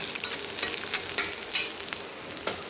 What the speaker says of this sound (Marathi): आता आपल्याला सगळं साहित्य भाजून घ्यायचं आहे